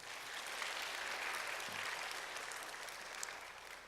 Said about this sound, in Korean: 우리 한번 박수 한번 쳐주세요